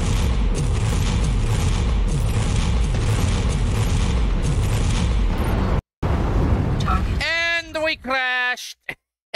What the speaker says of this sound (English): Too much explosions.